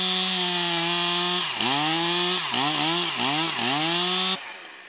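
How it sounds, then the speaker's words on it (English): A chainsaw runs close by during tree rigging, a loud steady idle that revs up and down several times as it cuts through wood, then stops abruptly; no talking. "we've got a saw on"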